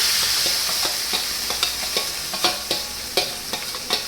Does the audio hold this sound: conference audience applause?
no